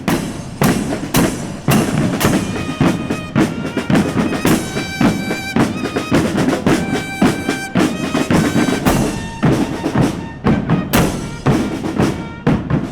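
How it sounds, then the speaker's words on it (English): Drums of the Bombeiros Voluntarios do Nordeste brass and percussion band parading into a village square during the Festas do Nordeste pound loudly and steadily, with heavy beats and brass tones over an outdoor crowd. "the sounds of drums could be heard approaching"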